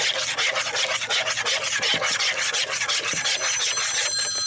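A dressing of mayonnaise, apple cider vinegar and sugar is stirred in a bowl, making continuous rapid scraping and rubbing strokes that sound close and steady for several seconds.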